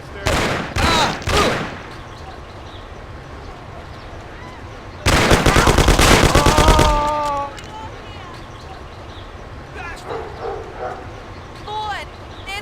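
Gunfire in the video game Mafia: The City of Lost Heaven comes in loud rapid bursts, a short volley at the start and a longer sustained burst midway, with shouting voices and quieter shots between.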